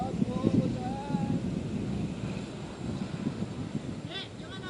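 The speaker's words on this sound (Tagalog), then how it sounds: "Malakas lang ang hangin ngayon." Gusty wind buffets the microphone in a rough, continuous roar, with faint voices mixed in.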